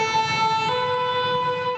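A single emergency siren on a Paris street holds a steady, fairly loud wailing tone over low city rumble, with no talking.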